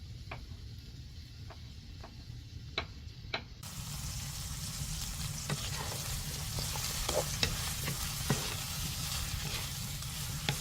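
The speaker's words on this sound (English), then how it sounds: "As they hit the heat, they begin to sizzle" Mushrooms are sautéed in a hot pan. A few scattered ticks and clinks give way to a steady, moderately loud sizzle with occasional stirring pops.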